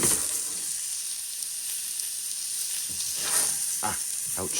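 Steak searing in a hot cast iron pan gives a loud, steady sizzle and hiss, with a few sharper crackles near the end and no talk.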